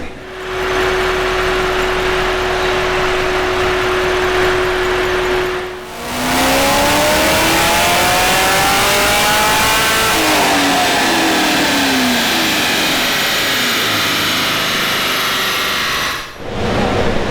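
A single-turbo Chevy SS engine idles with a steady hum, then revs hard in loud sweeping bursts that climb and fall repeatedly before settling, close and dominant throughout.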